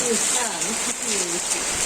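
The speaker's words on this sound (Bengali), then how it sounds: "আমাদের এখানে প্রচুর বৃষ্টি হইতেছে" Heavy rain pours down in a continuous bright hiss while a person talks over it throughout.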